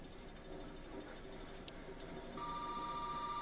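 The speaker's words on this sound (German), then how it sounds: "Das Telefon klingelt." Telephone ringing in the horror game Resident Evil 7, a faint electronic tone that sets in steadily partway through over quiet ambient room noise.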